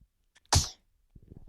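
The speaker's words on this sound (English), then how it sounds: "That is a baby sneezing." A baby gives a single sharp sneeze, close and loud, followed a moment later by soft babbling sounds.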